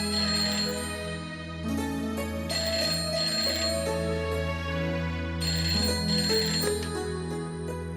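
A phone rings with recurring bursts of chiming electronic tones, close and clear, layered over sustained background music.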